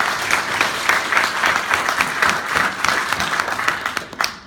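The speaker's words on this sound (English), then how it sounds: "Let's have a round of applause." A luncheon audience at a junior-college women's basketball champions event gives a player a sustained round of applause, a dense, steady wash of many hands clapping with no voices, tapering off at the very end.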